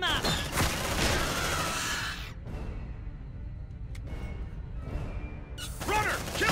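Bursts of gunfire and crashing impacts in the sci-fi video game Aliens: Dark Descent, loud at the start and again near the end, with a quieter rumbling stretch between and no speech.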